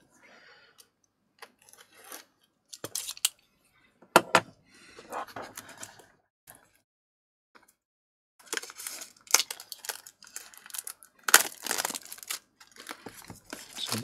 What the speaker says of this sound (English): this is some kind of classic sealing, so we just have to cut this open